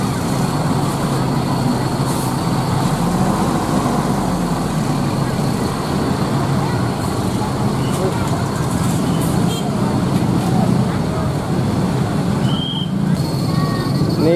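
An Agra Mas bus, unit R009 on the Praci route, pulls away on an afternoon departure, its steady engine and road rumble filling the clip close by while a person talks over it.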